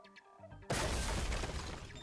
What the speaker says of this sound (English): It's like breaking glass